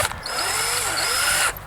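Cordless battery drill driving a screw into wood at an allotment, a close, loud whirring motor that rises and falls slightly in pitch as it runs, with a brief start and stop at either end.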